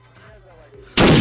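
A single loud gunshot in the video game Call of Duty: Ghosts bursts out abruptly at the end, following a second of quiet, murmuring background sound.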